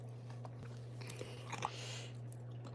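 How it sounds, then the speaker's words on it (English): Fruit snacks are chewed close up, a few faint sticky clicks and squishes rising briefly over a steady low electrical hum, with no talking. "I'm eating fruit snacks"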